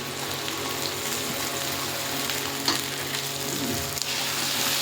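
Garlic, ginger and green chili sizzle in oil with lightly fried tomato and onion in a pan, a strong, steady close-up frying hiss with occasional stirring knocks.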